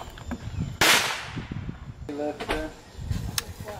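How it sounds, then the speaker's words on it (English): A sharp crack goes off, then a few more snapping pops follow irregularly, moderately loud outdoors, with people chattering and exclaiming around them. "they're like setting off firecrackers"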